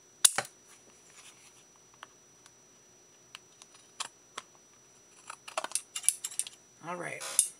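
Scissors trimming paper off a die-cut pocket in a quiet craft setting, scattered sharp snips and clicks that pick up into a quicker cluster of cuts near the end, plus a brief rustle.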